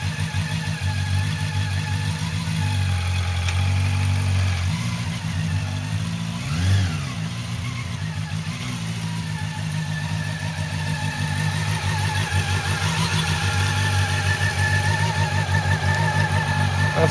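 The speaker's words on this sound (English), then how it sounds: "Okay, Pádraig, you can do a U-turn whenever you're ready, please." A motorcycle engine running steadily at low speed through a slow U-turn on a riding test, holding a close, even hum with only a slight swell partway through. No one talks.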